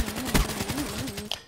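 Gunfire in Black Ops 3, the KN-44 assault rifle among the weapons, comes as a short burst of rapid shots over continuous game music and background noise, with one sharper report near the end.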